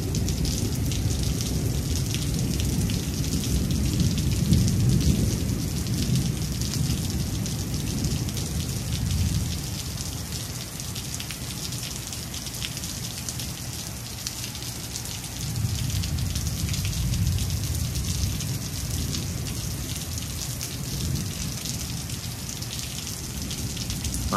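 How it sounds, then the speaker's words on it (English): Steady rain pours down throughout a thunderstorm, with low rumbles swelling beneath the constant hiss now and then. "Listen to God's voice through the thunder."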